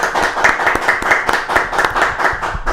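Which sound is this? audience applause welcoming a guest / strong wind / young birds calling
audience applause welcoming a guest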